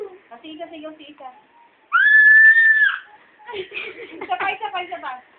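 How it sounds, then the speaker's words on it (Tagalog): A child gives a high, sustained scream of about a second, loud and shrill, between stretches of children's and adults' chatter at home. "Sigaw kayo, sigaw."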